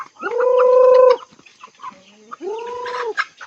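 Chickens at a coop give two long, loud, close calls separated by scattered softer clucks.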